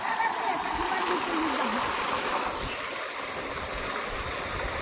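A farm water pump motor runs as water gushes and splashes steadily nearby, a constant broad rush, with a voice speaking briefly over it.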